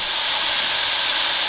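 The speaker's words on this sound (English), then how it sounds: "Cast iron skillet, 2 steaks, sizzle." Two steaks sizzle in a cast iron skillet, a steady, dense hiss that holds evenly and close for the whole moment with no voices.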